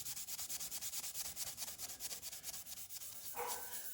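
An abrasive rubbed along a knife blade in quick, even back-and-forth strokes, a close, soft rasping rhythm that runs throughout with no talking.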